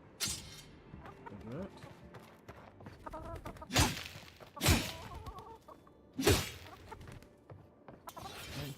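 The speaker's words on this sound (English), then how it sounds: "kill the chickens." Chickens cluck in the Avowed video game, short bursts of clucking mixed with sharp impact hits while people talk over the game sounds.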